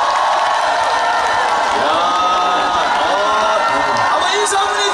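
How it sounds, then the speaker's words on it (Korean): A festival crowd at an outdoor downtown stage in Sangju cheers and applauds for a trot singer, with loud whoops, shouts and clapping blending into a continuous roar; voices call out within the noise. "여러분 큰 박수 부탁드립니다"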